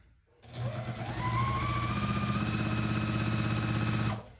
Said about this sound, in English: I'm going to back stitch just a little bit right there